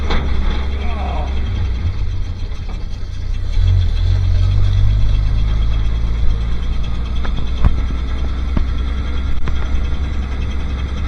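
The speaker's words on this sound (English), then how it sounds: "you can hear it's burbling back to the silencer" A Bedford RL truck engine rumbles steadily from inside the cab on the road, a low exhaust drone burbling back through the silencer with faint mechanical ticks, loud and continuous.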